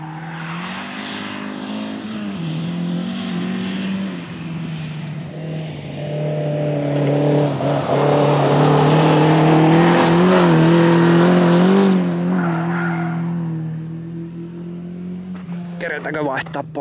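A nearby Ford Escort engine idles roughly, then revs up loudly for several seconds before dropping back, with an uneven, sputtering, cutting-out tone throughout.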